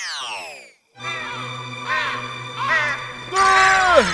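A crow caws at night, a series of harsh, nasal calls rising and falling in pitch, loud and close, layered over a steady background tone.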